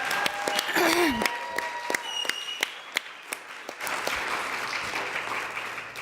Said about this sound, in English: I'd love everyone to give a cheer for Lynn right now